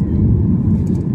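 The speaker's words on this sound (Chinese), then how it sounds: "飞机起飞" Deep steady roar of an airplane taking off, heard as a loud, continuous low rumble with no distinct events, likely from inside the cabin.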